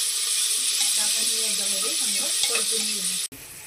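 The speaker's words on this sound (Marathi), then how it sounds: "चरबी आपण ह्या कांद्यासोबत परतून घेणार आहे" Mutton fat sautéing with onions in a pan makes a steady sizzle and stirring scrapes close by, continuous for a few seconds before a brief cut near the end.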